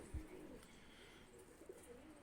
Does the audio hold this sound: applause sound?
no